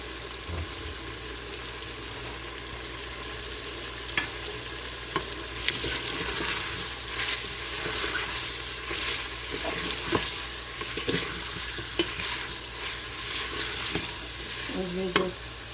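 Chicken karahi fries with salt and black pepper in the pan, a constant close sizzle with scattered scraping and clinking of stirring through the stretch.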